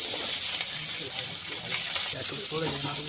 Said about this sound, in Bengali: এবার আলু দেওয়া হচ্ছে এবার আলু রান্না করা হবে